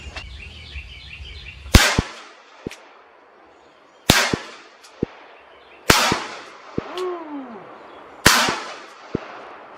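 Four sharp, loud gunshots from .38 Special and then .357 Magnum rounds fired at a BulletSafe vest outdoors, each crack spaced about two seconds apart and followed by echoing reports and small impact pops.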